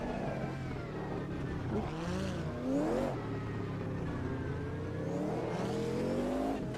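Race car in the Automobilista 2 video game with an H-pattern gearbox, engine note falling and rising as it brakes hard into a corner and downshifts, loud and close throughout, no talk.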